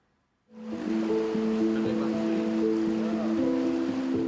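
A fast-flowing river, the Tuntang, being crossed near Kalikurmo village in Semarang, Indonesia: a steady, loud rush of water that starts abruptly and continues, with faint steady tones running through it.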